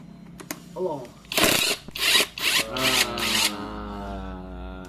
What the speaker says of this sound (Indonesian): Kemudian kita buka pakai impact.